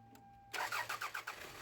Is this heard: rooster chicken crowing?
no